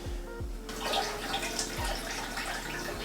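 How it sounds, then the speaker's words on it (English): Soaking water from shiitake mushrooms and kombu is poured out into a sink, giving a steady splashing, trickling stream that starts abruptly and runs close and moderately loud, with a few low thumps from handling. "Okay, so let's discard this water."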